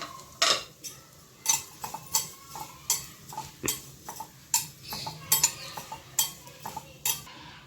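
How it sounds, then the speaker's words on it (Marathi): A metal spoon scrapes and clinks against a pan in quick, irregular strokes, stirring vermicelli roasting in ghee; no talking. "मी हे कढईत एक चमचा तूप टाकते आहे त्याच्यावर या शेवया थोड्या परतून घेणार आहे"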